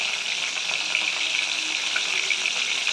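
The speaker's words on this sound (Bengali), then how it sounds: "দেখো সোয়াবিনগুলো আমার ভাজা হয়ে গেছে, খুব ক্রিস্পি হয়েছে।" Soybean chunks fry crisp in hot oil, giving a dense, even sizzle. The sound stays loud and close and carries on unbroken for the whole stretch, with no talk.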